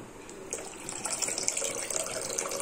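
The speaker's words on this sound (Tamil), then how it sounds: "இப்போ இதோட கொஞ்சம் இன்னும் கொஞ்சம் தண்ணியை நம்ம ஆட் பண்ணிக்கலாம்." Water pours steadily into a pot of tomato rasam, a light splashing trickle that grows slightly louder over a few seconds.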